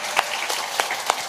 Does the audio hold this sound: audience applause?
yes